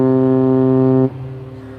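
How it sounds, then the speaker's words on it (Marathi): A RoRo ferry leaving Mumbai's Bhaucha Dhakka sounds its ship horn, a loud, deep, steady blast for about a second that cuts off abruptly, leaving low background rumble. "कॅप्टननी पण हॉर्न वाजवला आता आणि फेरी डिपार्ट होते"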